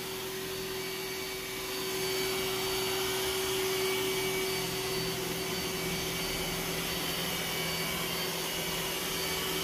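A Roomba s9 robot vacuum runs over thick high-profile carpet with a loud, steady motor whine and airy rush, close by and constant from start to finish, the roar swelling slightly after the opening seconds.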